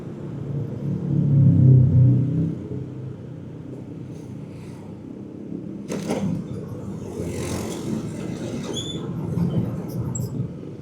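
Traffic noise from a congested road in a busy residential area: a steady low rumble of engines, loudest near the start, then a continuing hum with a few brief higher clatters and squeaks.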